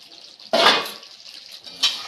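A metal lid set down onto a cooking pot of simmering pointed gourds (potol) with slit green chillies, giving one clear clatter near the middle and a lighter clink shortly after, close by in a quiet kitchen.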